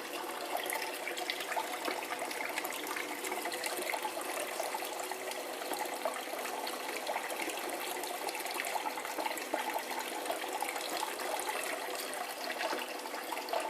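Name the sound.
water running in concentrator bowl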